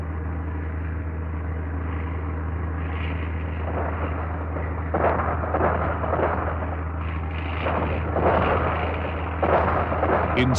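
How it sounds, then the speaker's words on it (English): Japanese anti-aircraft guns fire on a PBY Catalina flying boat, heavy irregular bursts of flak cracking over a continuous low aircraft engine drone, growing busier toward the end. "bring the usual response from Japanese anti-aircraft guns"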